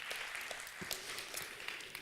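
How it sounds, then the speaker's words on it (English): Audience applause after a group's presentation at an innovation workshop, a steady, dense wash of many hands clapping held at an even level for the whole stretch, with no voices over it. "A little applause to them, I think."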